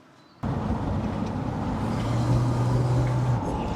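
A Jeep Cherokee with modified suspension on a road test, its engine and road noise starting abruptly and then holding a steady, loud rumble from inside the vehicle, with a faint whine rising partway through and no talking.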